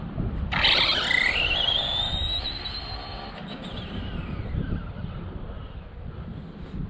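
A taped-tire RC car drives with a rising whine and high squeal, over a steady rough vibrating rumble that runs through the whole stretch at moderate loudness.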